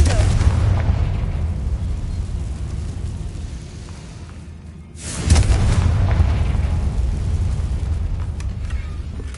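A Confringo fire spell goes off in Hogwarts Legacy on PS5. A single heavy explosive boom lands midway through a continuous rumbling bed of game ambience.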